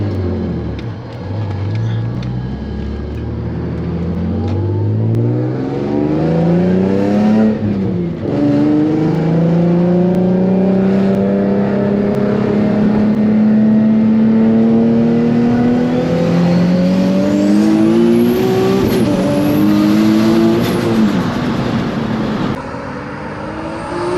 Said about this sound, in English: get you guys a little flyby so you guys can see how the car moves